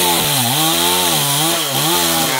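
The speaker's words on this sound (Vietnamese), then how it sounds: "Chú mình cưa cái đọt luôn" Chainsaw cutting through the top of a golden wattle tree, engine note steady and loud throughout with slight pitch dips as the chain bites into the wood, no voices.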